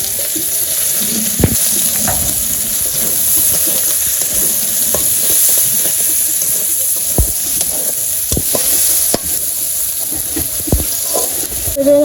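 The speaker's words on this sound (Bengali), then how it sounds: "মাছটা ভাজা হয়ে গেছে তেজপাতা দিয়ে দিলাম" Bay leaves frying in hot oil left over from frying fish in a village kitchen: a continuous, loud sizzle broken by scattered sharp clicks and scrapes of stirring, with no speech.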